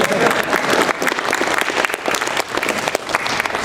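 A convention audience at a live comedy songwriting panel breaks into dense, steady applause, many hands clapping together at close range for a few seconds.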